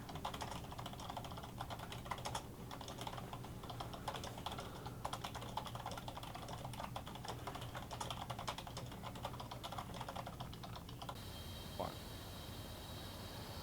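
Continuous close keyboard typing, a fast stream of key clicks lasting about eleven seconds before stopping, with quiet voices talking underneath in the background.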